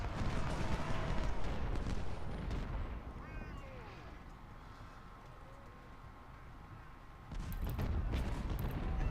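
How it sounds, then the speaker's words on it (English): Ironclad warships firing artillery along a coastline in Ultimate Generals: Civil War, a dull continuous rumble of distant cannon fire with a louder burst near the end. "we are taking fire obviously from the ironclads"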